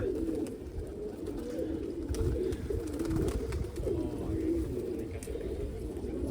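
Pigeons coo in low, repeated throaty phrases that overlap steadily throughout, close by and fairly loud, at a rooftop loft where birds are kept.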